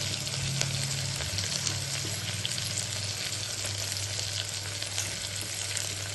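Coriander powder frying in hot ghee for a North Karnataka biryani rice dish, giving a steady, dense sizzle with a continuous low bubbling undertone and no pauses throughout.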